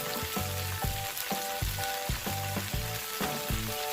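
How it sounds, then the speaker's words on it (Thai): Stir-frying in a pan for a noodle-free pad thai with seafood and dried shrimp, a steady sizzle under repeated rhythmic clanks of a utensil hitting the pan, close, with no speech. "ค่อยๆผัดนะครับ ไม่ต้องรีบครับผมไม่ต้องรีบ"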